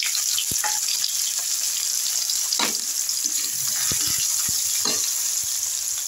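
Chopped onion frying in oil with cardamom, cloves and cinnamon, a loud, even hiss of sizzling that runs throughout, with occasional spoon taps and stirring scrapes and no talk.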